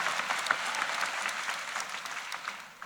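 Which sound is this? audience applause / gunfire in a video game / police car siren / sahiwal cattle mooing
audience applause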